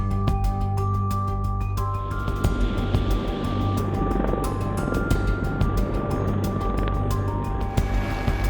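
A Sikorsky CH-53K King Stallion heavy-lift military helicopter with advanced engines and composite rotor blades drones steadily, a dense low rotor and turbine rumble with a persistent whine, sustained and fairly close throughout.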